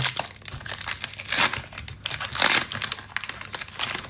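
Foil booster packs of Pokémon trading cards from a Surging Sparks Elite Trainer Box being opened, giving a close run of crisp crinkling and tearing bursts with no talk.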